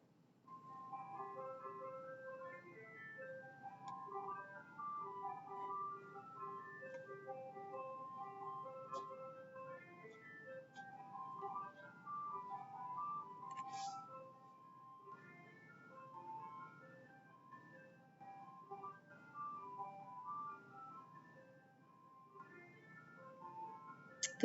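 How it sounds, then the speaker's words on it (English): An ice cream truck's chiming melody plays steadily and fairly loud, repeating its tinny tune throughout with a faint engine hum underneath. "The ice cream truck is here."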